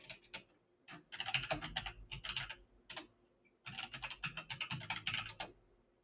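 Rapid clicks of a computer keyboard as a terminal command is typed, coming in quick bursts separated by short pauses, close and fairly quiet.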